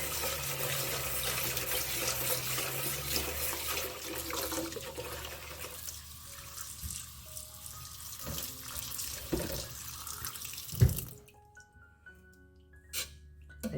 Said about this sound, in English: So I'm going to add water now, and at the same time I'm going to add my wool.